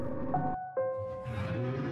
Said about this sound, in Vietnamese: Hình như đó là tiếng của con Midnight Lurker các bạn ơi.